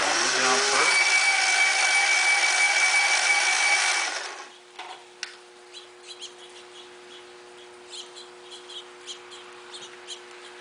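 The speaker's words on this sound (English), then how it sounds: "Now what I'm going to do is I'm going to grind them until they're both matched up." A power grinder shapes V tools and gouges for a woodcarving sharpening fixture, whining steadily for about four seconds before shutting off and leaving faint clicks and light taps.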